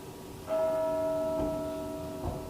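A bell in Minecraft rings with a sustained, clear tone, struck a few times at a slow, even pace, its hum lingering between strikes.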